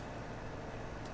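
Steady low tractor engine drone from Farming Simulator 17, a continuous broadband rumble held at an even level throughout with no talk over it.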